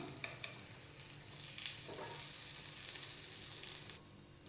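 Corn cheese balls fry in a pan with a soft, steady sizzle and bubbling oil. Faint scrapes and stirring noises come through as the balls are turned, all fairly quiet and close, with no talking.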